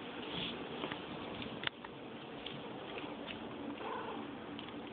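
A pet cat purring close up at feeding time, a low continuous rumbling drone with a few soft clicks and taps.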